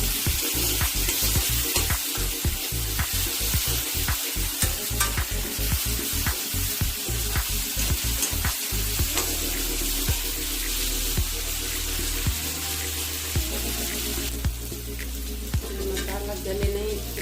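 Tomatoes hit a pan of spiced masala and fry with a loud, crackling sizzle, accompanied by stirring scrapes; the sizzle softens midway and continues steadily to the end.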